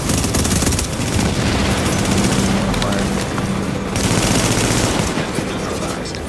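Dense turret gunfire in a video game, rapid continuous bursts with a few pauses, loud and close, with speech faintly mixed in.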